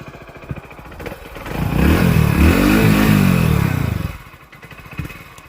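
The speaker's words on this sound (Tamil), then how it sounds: "இன்ஜின் நோட்டு, எக்ஸாஸ்ட் நோட்டு கூட கேட்டு பாருங்கள்." A 2026 Hero HF Deluxe Pro motorcycle, sharing the Hero Splendor's engine, is cranked with its electric self-start button and fires up, rumbling loudly for a few seconds before dropping back to a lower idle.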